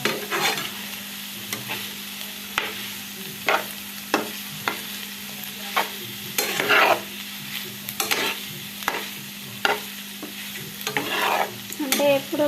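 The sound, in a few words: onions with salt frying in pan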